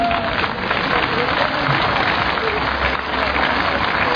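A large crowd at an outdoor political rally claps steadily for several seconds, a dense, loud wash of applause with no break.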